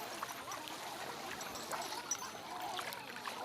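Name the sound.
flowing water near temple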